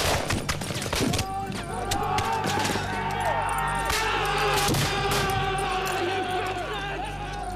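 Musket volley from colonial militiamen firing flintlock firelocks loaded with black powder, a burst of sharp cracks followed by a dense, ragged crackle of shots amid crowd noise and shouting.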